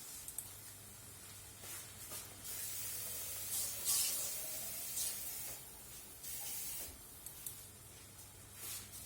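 Water pours into a hot pan of tomato sauce, making a soft, steady hiss and sizzle with a few brighter spurts, faint and continuous throughout.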